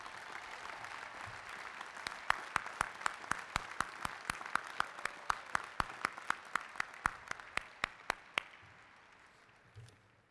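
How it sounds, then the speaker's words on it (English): A large crowd at the Ohio State University 2018 spring commencement applauds, a broad steady roar of clapping under sharp close handclaps, fading out near the end. "a round of applause for that incredible number."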